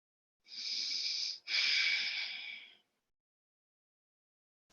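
Slow, deep breaths drawn in and let out during a gentle yoga-style stretching and lymphatic flow session, two long airy exhalations close to the microphone in an otherwise quiet room.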